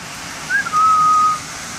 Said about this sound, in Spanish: Es un Jaco, para quien no lo sepa, de cola roja.